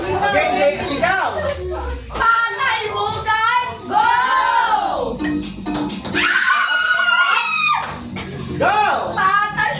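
Children at a family New Year party take turns shouting, with high, drawn-out yells rising and falling between bursts of excited talk and laughter close to the mic.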